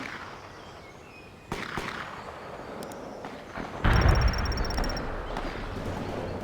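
Gunfire and explosive cracks in the video game World in Conflict, during an insurgents mission: a sharp burst early on, then a heavier blast-like crack near the middle followed by a lingering rumble, with no voices.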